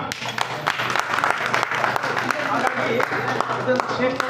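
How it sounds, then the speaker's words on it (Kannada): Audience applause at a state-level para throwball sports event in Anekal town, a steady wash of clapping that fills the whole stretch under a busy, crowded hall ambience. "ನಮ್ಮೆಲ್ಲ ಟೀಮ್ಗೂ ಒಂದು ಚಪ್ಪಾಳೆ ಹೊಡಿಬೋದಾ"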